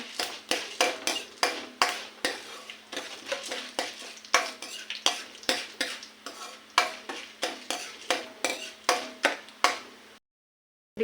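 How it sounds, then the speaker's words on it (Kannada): Urad dal fried in a pan for a Kannada leafy-greens palya, heard as brisk, regular spatula scrapes and clinks against the pan over a soft sizzle, running about ten seconds before stopping abruptly into silence. "ಇದು ಉದ್ದಿನ ಬೇಳೆ ಕೆಂಪು ಬಣ್ಣ ಬರುವವರೆಗೂ ಫ್ರೈ ಮಾಡಬೇಕು."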